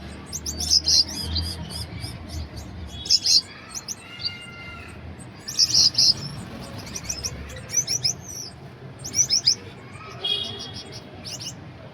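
Finches in breeding cages chirp in short, high bursts, with clusters of tweets repeating every couple of seconds over a soft background murmur.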